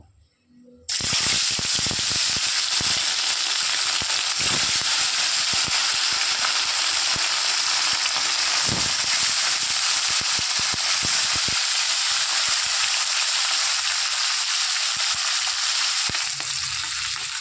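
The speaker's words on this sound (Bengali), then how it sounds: "এবার এক এক করে মাছগুলো আমি ভেজে নেব" After a brief quiet moment, loud dense sizzling erupts as bhola fish hits hot mustard oil and keeps crackling and spitting steadily, with faint clatters underneath.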